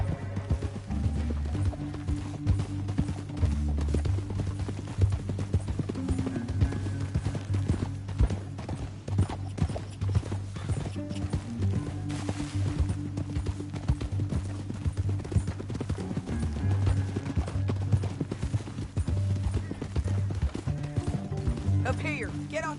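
Steady clip-clop of horse hooves at a trot or gallop in the video game Red Dead Redemption 2, continuous and fairly close, with a low rumbling music bed and occasional voices.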